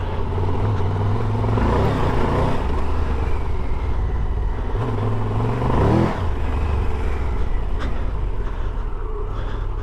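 A 2022 Triumph Tiger 1200 Rally Pro motorcycle rides over loose soil, its engine droning steadily close up with two rising revs as the rider accelerates, amid rumbling wind and bumpy clatter throughout.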